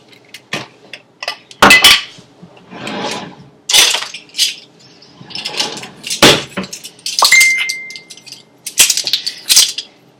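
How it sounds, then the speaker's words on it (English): Butter and garlic cooking in a pan, with metal utensil clinks and scrapes coming in separate bursts between quieter stretches, near and fairly loud. "Once the butter's melted, we're going to add in our garlic."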